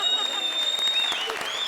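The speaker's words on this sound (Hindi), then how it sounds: "तालियां" Audience applause at a comedy show, a short burst of steady clapping from a crowd with voices mixed in.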